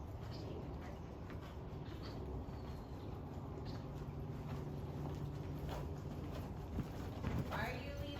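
A horse cantering in a riding arena, hooves clip-clopping steadily throughout at a moderate distance, with continuous background noise and some talk.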